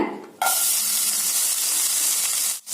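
Pirandai drops into hot sesame oil with a sudden loud burst of sizzling, then a dense, even frying hiss that continues close and strong until it briefly dips at the end.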